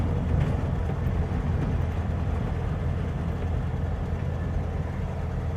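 A 1957 VW Beetle on the move, with a steady low engine and road drone, under which a loose, rapid rattle runs continuously from somewhere in or under the car, fairly loud and close throughout.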